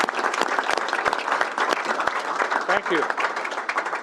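An audience at a University of Nebraska Board of Regents meeting applauds to welcome a state senator to the podium, a dense, steady burst of clapping from a roomful of people, with a brief spoken thanks near the end.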